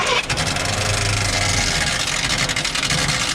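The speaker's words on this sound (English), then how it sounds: "Oh, she runs. She makes a lot of noise," An old car engine that was just revived runs loud and rough, a steady noisy drone with uneven knocking pulses throughout, close to the listener with no talking.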